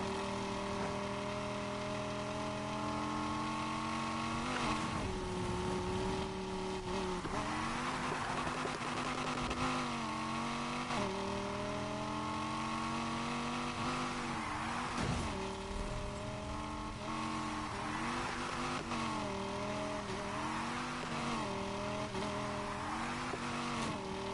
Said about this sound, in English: This car has definitely been swapped. M4 uses an i6. This sounds like a V8.